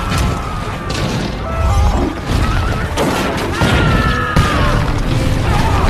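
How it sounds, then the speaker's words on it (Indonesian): Cannon fire from the pirate ship Black Pearl bombarding a fort at night, from Pirates of the Caribbean: The Curse of the Black Pearl: dense, continuous booming and crashing impacts with rumbling debris, loud and chaotic throughout. "tiba-tiba benteng tersebut dibombardir oleh tembakan meriam"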